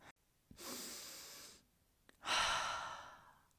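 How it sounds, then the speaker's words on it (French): Breathwork breathing up close: a sharp inhale through the nose, then a longer hissing exhale through the mouth, repeated with a short pause between, quiet and otherwise silent. "en inspirant par le nez et en expirant par la bouche"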